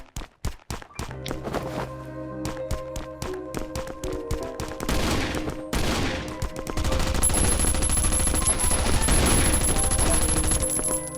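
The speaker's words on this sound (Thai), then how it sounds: "ผมได้ปืนกลแล้ว" Machine gun fire in the survival video game Last Island of Survival: rapid sharp bursts and scattered single shots, building into sustained loud automatic fire over a dense background of game sounds and footsteps.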